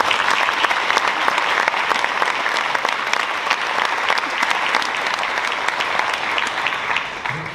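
Loud, steady applause fills the room for an award recipient at a school district event, sustained dense clapping from a crowd that holds for several seconds before tapering slightly at the end.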